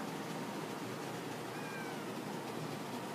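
A white cat gives a faint, brief meow partway through, heard against steady indoor background noise with no talking.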